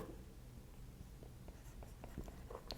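Chalk or marker writing on a board gives faint, scattered scratchy strokes and taps at close range over a quiet room.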